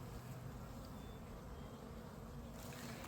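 A faint, continuous buzz of many honeybees hums steadily around a small resource hive, with no talking.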